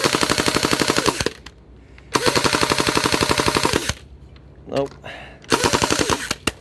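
An MKM2 gel blaster toy gun fires in full-auto bursts, fast even mechanical rattling in three long strings with pauses between, close and loud; a brief spoken word comes in one gap.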